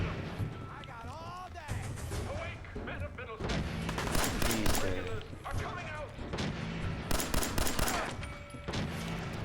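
Pipe pistol gunfire in the video game Fallout 4, a series of sharp shots and bursts mixed with game effects and music while someone talks over it.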